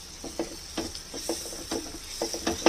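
Small-chopped tomatoes stir-fried with chilli in a pan for Patiala chicken sizzle steadily under soft, irregular spatula scrapes and taps, close up, with no voices.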